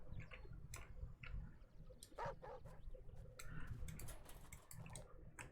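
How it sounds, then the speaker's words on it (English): Dogs playing in the Animal Shelter Simulator video game: scattered short yips, whimpers and light barks, with soft ticking and clicks over a low steady hum, mostly quiet. "The dogs seem to be playing, that's good."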